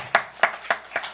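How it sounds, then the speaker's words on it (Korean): Four sharp, evenly spaced claps ring out one after another from a church congregation during a Sunday sermon, each crisp and close with brief gaps between them. "박수 한번 쳐줍시다."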